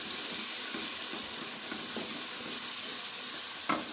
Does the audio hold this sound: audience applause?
no